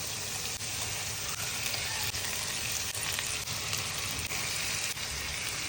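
Sardines with salt and curry leaves fry in a pan, giving a steady, dense sizzle and crackle throughout, up close and without talk.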